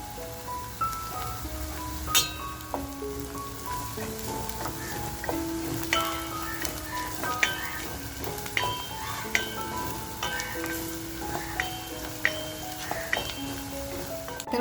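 Ground masala frying with softened onions in a pan for shahi mutton, giving a steady close sizzle with scattered stirring clicks and scrapes of a spoon, no talking.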